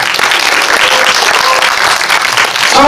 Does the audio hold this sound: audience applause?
yes